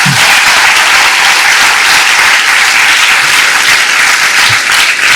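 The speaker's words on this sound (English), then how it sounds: "one big round of applause to this guy" A loud, sustained round of applause from a college audience of nursing students for a student, dense clapping filling the whole stretch without a break.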